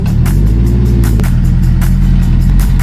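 A car on a road trip in Ilocos Norte rumbles with a steady, loud engine and road drone that fills the whole stretch, with brief bursts of passing noise over the constant low hum.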